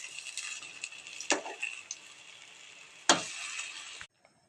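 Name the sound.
taro leaf pakoras frying in oil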